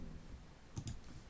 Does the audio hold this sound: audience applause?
no